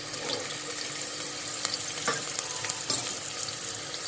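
Onions frying in a pan, a steady soft sizzle with occasional stirring scrapes and clinks, no voices.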